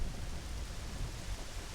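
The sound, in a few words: rain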